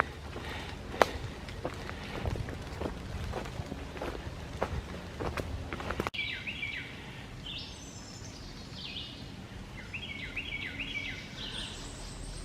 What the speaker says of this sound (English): I enjoy listening to the birds.